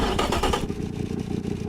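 A turbocharged engine in an i3 hypercar fires up, with a loud rough clattering burst of starter and combustion that settles into a steady, pulsing idle, close up.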